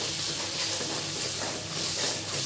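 Chili powder, turmeric and cumin fry hard in mustard oil for a sour mango pickle, a loud, continuous close-up sizzle with stirring underneath.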